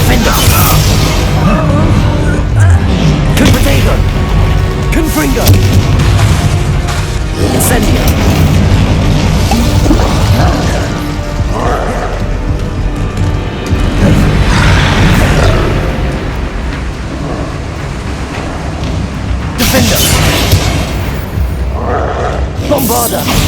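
Hogwarts Legacy spell combat with repeated Confringo blasting-curse explosions, loud booming impacts and crashes layered over constant battle noise and shouted incantations, dense and continuous throughout.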